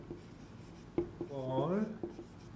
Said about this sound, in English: so let us write provision